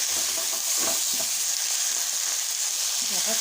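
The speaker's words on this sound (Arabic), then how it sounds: "اسيبهم لما يتقلوا" Vegetables with tomato, tomato paste, salt and black pepper fry in a pan, giving a steady, close, dense sizzle with faint stirring throughout.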